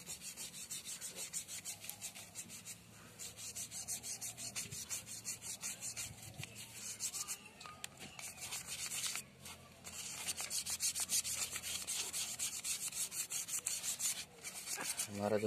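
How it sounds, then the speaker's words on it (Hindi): A toothbrush rubs lightly across a dirty mobile phone cover during cleaning, giving a steady close-up scrubbing and brushing texture with repeated strokes throughout and no talking. "उस ब्रश की सहायता, मंजन करने वाला ब्रश होता है, उसकी सहायता से रब कर लेते हैं"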